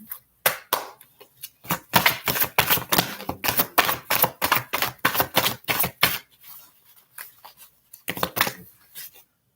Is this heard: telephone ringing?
no